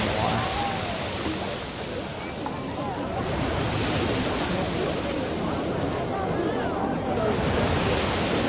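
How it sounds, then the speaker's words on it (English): Continuous water splashing and surf-like wash from a water feature in the Planet Coaster 2 theme park builder, steady and broadband, with wind-like noise and no talk over it. "it's got plenty enough of a splash effect still"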